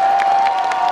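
Audience applauding as a grandfather is introduced on stage at a conference, a steady dense wash of clapping with a few cheers rising over it throughout.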